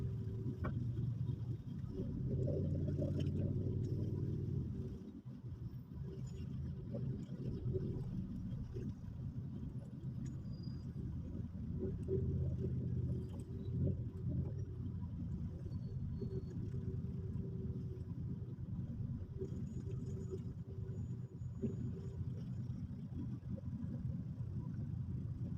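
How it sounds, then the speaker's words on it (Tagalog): Road traffic building up along Lacson at around 5:15 in the afternoon rumbles as a low, steady drone of car engines nearby, a bit heavier in the first few seconds, then settling into a constant idling hum without talk. "So may build up na ng traffic dito sa kahabaan ng Lacson"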